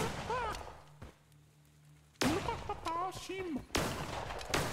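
Gunfire in the video game Cult of the Lamb: sharp broadband shots crack out near the start and again around the two-second mark, with a quieter gap between and excited talk over the rest.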